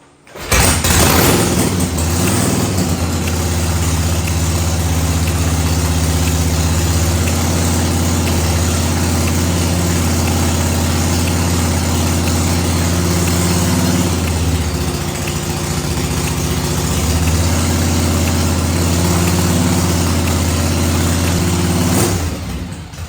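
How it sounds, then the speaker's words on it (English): A freshly built motor idles cold during a heat-cycling start-up, running loud and steady with a constant low rumble and a slight dip in the middle before it shuts off at the end. "Now remember, this engine is completely cold between cycles."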